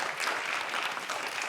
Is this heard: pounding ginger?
no